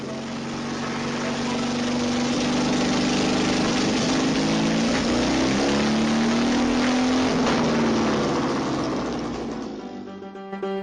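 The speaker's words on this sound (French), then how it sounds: "Mon Dieu, quelle circulation, on n'avance pas!" Car engines idle and creep along in heavy traffic on the avenue de Versailles, a dense steady engine drone with a nearby motor's pitch rising and falling before the sound fades at the end.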